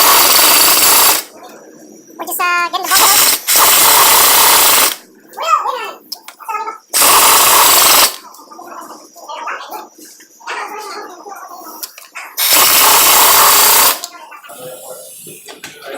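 Power tool spinning out bolts on a Jeep JK front driveshaft, sounding in four loud bursts of about one to two seconds each, separated by quieter stretches of talk and clinking.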